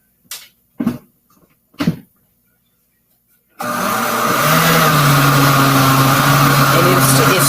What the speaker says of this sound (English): And it's churning away right now.